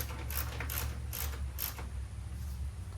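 Bolts being snugged up on the cooling fan shroud of a 2011 Toyota RAV4, four short ratchet clicking bursts in steady rhythm over a low background hum, close and without talk.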